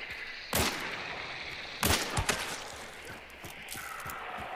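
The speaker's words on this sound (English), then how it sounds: "Oh, there's more gunshots, right?" A few loud gunshots in the video game Hunt: Showdown with sharp bursts and some echo, followed by fainter scattered shots against a constant background hiss.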